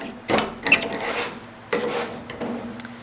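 A spray bottle mists rubbing alcohol onto freshly made soap before mica is added, giving about three short, close hissing spritzes, each with a faint mechanical click from the trigger.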